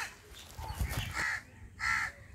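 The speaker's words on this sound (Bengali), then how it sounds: "চারদিকে প্রচুর পাখির ডাক," Crows caw on a quiet river island in the Hooghly, two or three harsh calls at moderate distance with breezy outdoor ambience and no talk.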